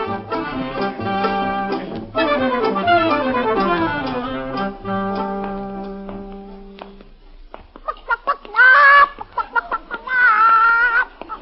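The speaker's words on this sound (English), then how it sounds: "we're going to buy a live chicken" A live chicken clucks and squawks loudly and close in an old-time radio comedy scene, with a long rising cackle that fades out, then a pause and several sharp squawking calls.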